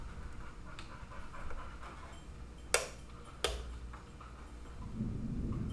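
A dog pants steadily close by through the whole stretch, a continuous breathy rasp with two sharp clicks partway through and a low rumble building near the end.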